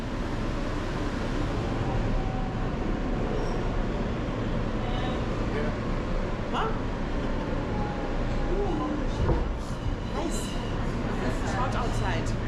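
A New York City subway train rolls along in a steady, loud rumble and rattle that fills the whole stretch, with faint squeals and knocks rising now and then.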